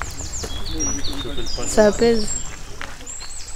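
Small birds chirp in an outdoor garden, with thin, high calls scattered through the clip under a person speaking French in the foreground.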